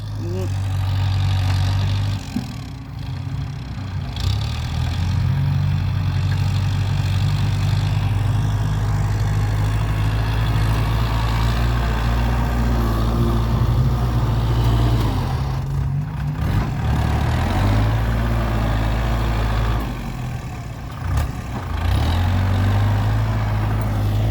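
A tractor engine drones loud and steady at close range, pushing a vehicle stuck and sinking in mud, its low rumble swelling and easing briefly as the load shifts.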